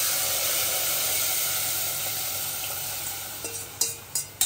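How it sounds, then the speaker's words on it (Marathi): Kadhi mixture hits a hot pan and sizzles loudly, a dense continuous hiss of frying that slowly eases, with a few clinks of a utensil stirring near the end. "आपला जो कढीचा आपण मिश्रण बनवलं आहे ते टाकायचं."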